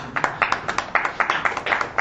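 An audience at a literary society's annual award ceremony claps in a thin, uneven rhythm. The individual hand claps stay distinct and fairly quiet, with no talk over them.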